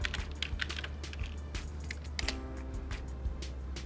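Typing on a computer keyboard while entering a book search in a university library, a quick run of soft clicking keystrokes over a steady background hum and room noise.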